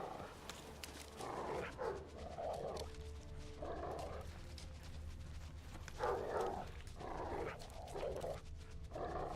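A dog barks repeatedly in The Witcher 3, with short yelping bursts at a moderate distance over a steady game background hum.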